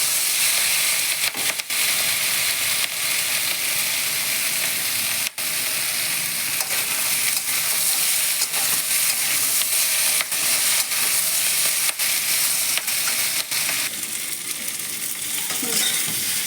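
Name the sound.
vegetables frying in a pan for fish curry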